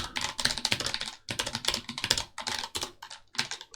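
Rapid clattering keystrokes on a computer keyboard, typed in quick runs broken by brief gaps, close and fairly loud throughout, heard alone without any voice.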